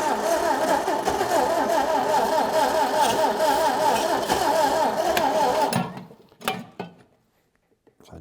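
Old MG BGT engine, long dormant, cranking over with a fast rhythmic mechanical chatter after universal solvent is sprayed in, loud and steady for about six seconds before stopping and leaving a few faint clicks.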